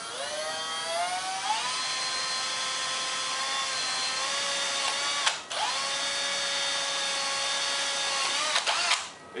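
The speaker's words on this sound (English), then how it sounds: "I'm going to do a pilot hole first." Power drill boring a pilot hole during a springarm lamp repair: a steady, close, high whine that rises in pitch at the start, cuts out briefly midway, then whirs on and stops near the end.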